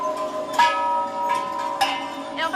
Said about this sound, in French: Comme Ellison, ils n'ont pas arrêté de sonner les cloches.